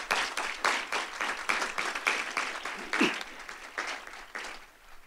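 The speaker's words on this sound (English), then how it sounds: "please give Dr. Booker a round of applause" Audience applause at a faculty and staff assembly, a dense stretch of hand clapping in an indoor hall that rises and falls over about five seconds without talk.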